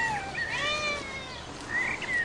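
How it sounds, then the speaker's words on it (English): Cats drawn to a catnip plant give several drawn-out, wavering meows, fairly close and clear over a soft outdoor background, with no speech. "Cats from far and wide are irresistibly drawn to this seemingly insignificant plant."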